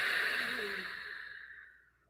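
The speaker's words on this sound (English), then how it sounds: "Let all the breath out." A long, deep breath let out slowly during seated yoga meditation, a soft airy exhale that starts full and close then gradually fades to quiet over about two seconds, heard alone.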